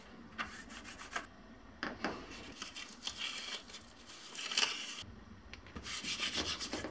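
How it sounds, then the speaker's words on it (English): Stickers being pressed and rubbed down firmly onto a copper piece, giving a close, dry scrubbing friction in repeated strokes with short pauses, alone without talk. "I'm going to rub real good, specifically around the letters"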